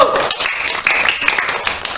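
A first-grade class of children applauds a classmate group after their presentation. Brisk, scattered clapping of many small hands fills two seconds, with a teacher's voice and children's chatter over it.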